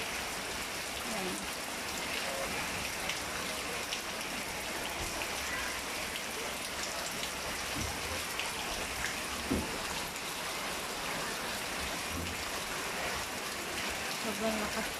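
Heavy rain pouring down during a flood in Pasay City, a steady dense hiss that stays even and fairly faint throughout, with no voices audible.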